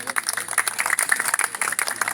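A crowd claps at a party rally on the Day of Fraternity in a Vitarte park, a dense and steady burst of applause greeting a speaker, fairly near and sustained with no pauses.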